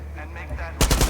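A 7.62mm automatic rifle in the video game Far Cry 6 fires a quick, loud, close burst of several shots at the end, after a short stretch of game background.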